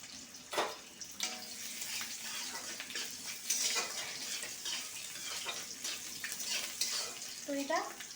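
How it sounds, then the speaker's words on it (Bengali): Green chilli and garlic tempering fries in hot oil in a pan, a soft, close crackling sizzle with scattered pops and scraping stirs, fairly quiet overall. "দেখো কাঁচা লঙ্কা আর রসুন ফোড়ন আমি দিয়ে দিচ্ছি।"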